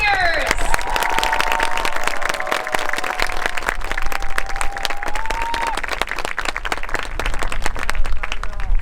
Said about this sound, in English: And one last round of applause for all of the seniors.